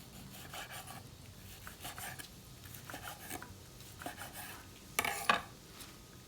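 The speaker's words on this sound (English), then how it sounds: "And now we're gonna cut our steak." A knife cuts cooked steak for a surf and turf quesadilla, faint rhythmic sawing and scraping strokes against a plate or board, with a brief sharper clatter near the end.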